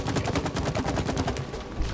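Rapid bursts of gunfire from a shooter in the co-op game It Takes Two, a fast stuttering volley of shots that stays loud and steady throughout with no talking.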